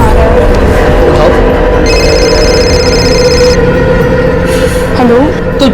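A phone rings for just under two seconds as a steady warbling tone, partly buried in a loud, dense background of music and other noise.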